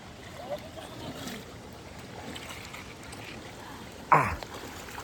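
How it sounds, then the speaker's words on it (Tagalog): Running river water rushes in a steady, broad wash throughout, with a brief sharp knock or splash near the end. "Ang lakas ng running water dito."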